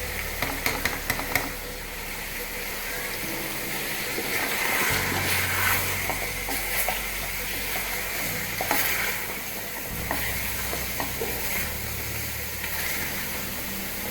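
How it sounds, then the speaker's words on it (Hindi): Chili, turmeric, cumin and coriander go into a hot frying pan and are stirred, raising a continuous sizzle. The sizzle swells as the spices land, with scraping and stirring clatters over a low steady hiss. "तो ये सारे मसाले हम इसमें डाल देंगे।"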